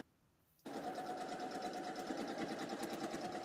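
A sewing machine starts up after a brief hush and then runs steadily at speed, a close, continuous mechanical whir with a fast rhythmic needle clatter and no talking over it.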